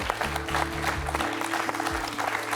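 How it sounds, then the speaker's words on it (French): A television quiz show studio audience applauds a contestant, steady rapid clapping from many hands over sustained low musical tones, moderately loud and continuous. "on va applaudir Jean-Paul pour ce super parcours"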